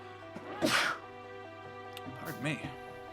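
A single sharp sneeze erupts up close over a steady background hum and low game music, followed by a softer sniff or breath a moment later.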